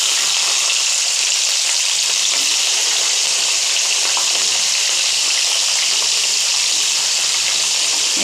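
Fenugreek seeds and green chillies frying in hot oil make a steady, loud, hissing sizzle that carries on without a break and with no voice over it.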